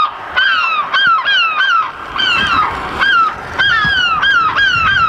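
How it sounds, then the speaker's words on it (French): A bird-scaring noisemaker gives out a run of loud, honking goose-like calls, repeated in quick bursts over several seconds, each call rising and falling in pitch. "Ça, là, ça sert pour faire du bruit ou faire peur aux oiseaux."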